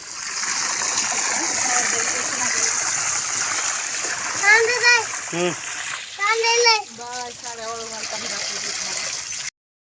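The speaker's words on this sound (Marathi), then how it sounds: "पाणी भरते" Water runs and splashes steadily while being filled for washing clothes, with voices, including a child's, talking over it partway through before the sound cuts off.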